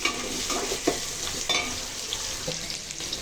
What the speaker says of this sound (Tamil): பூண்டு போட்டு நல்லா வதக்கிக்கலாம்